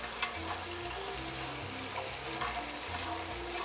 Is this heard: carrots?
yes